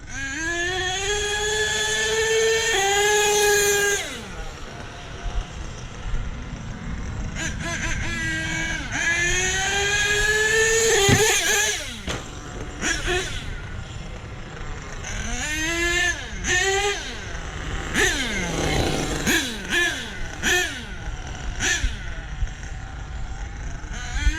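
A rough, uneven truck engine idles and revs, with a rattly, sputtering exhaust note from a badly seated exhaust pipe that rises and falls in bursts.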